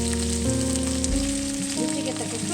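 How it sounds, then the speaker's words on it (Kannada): Ivy gourd frying in oil with coconut in a pan, a steady close sizzle throughout with faint stirring, no voices. "ಇವಾಗ ಇದು ಎಣ್ಣೆ ಜೊತೆ ಫ್ರೈ ಆಗಿದೆ."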